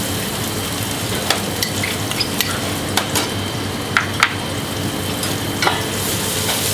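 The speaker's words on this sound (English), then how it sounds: "To that I'm going to add my chopped onions." Chopped onions sizzle in olive oil in a pan, a continuous close frying hiss broken by occasional sharper pops and clicks of stirring.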